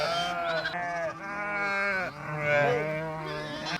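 A large flock of sheep crowds around a net enclosure, many animals bleating loudly and continuously in overlapping, wavering calls close by.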